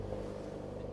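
A used car's engine fires and settles straight into a steady, droning idle, close by and moderately loud, with no talk over it.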